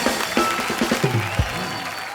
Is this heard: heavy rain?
no